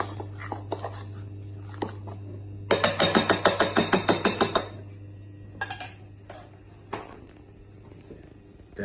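A spoon clinks rapidly against a bowl while mixing pancake batter with flour, a burst of about a dozen quick metallic taps, with scattered lighter scrapes and clinks before and after over a steady low hum.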